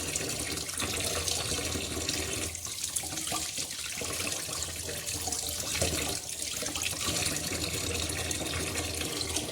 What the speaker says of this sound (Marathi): ह्या पद्धतीने आपण छान असे बांगडा मच्छी स्वच्छ असे धुतलेले आहे